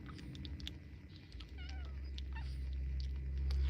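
Newborn kittens in a singleton litter whining thinly during tube feeding, several short high squeaky cries scattered over soft handling noise and a low rumble, close and faint.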